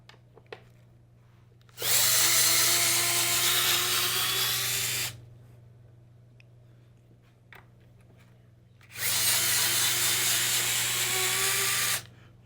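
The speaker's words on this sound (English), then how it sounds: "Now we got to unbolt our axles" A power tool unbolts the 4mm Loctite-secured axle bolts on an RC car with a high axle. It runs in two separate bursts of steady whirring of about three seconds each, with quiet gaps between.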